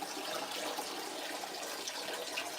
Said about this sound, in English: I'm going to let a good amount of the water drain